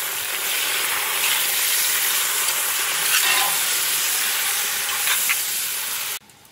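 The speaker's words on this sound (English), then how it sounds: "Give that a bit of a mix." Mushrooms, onions and celery being stirred in a stew pot for rabbit stew, a steady close sizzling hiss with soft scraping that runs evenly throughout and cuts off abruptly near the end.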